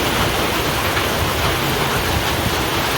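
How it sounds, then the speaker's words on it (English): Steady, loud rain pours down in a continuous dense hiss, with no pauses or voices, in mountain gorilla forest country. "I think it's raining."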